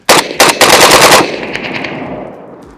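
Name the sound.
AKM rifle gunfire at a shooting range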